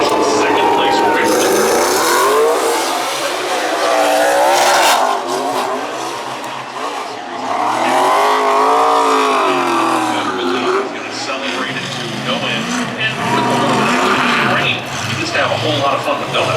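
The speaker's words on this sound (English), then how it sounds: "a little bit of a wet burnout here on the front straightaway" A NASCAR race car does a wet burnout on the front straightaway at Talladega, its engine revving loudly in repeated rising and falling sweeps with tire noise, close and dominant throughout.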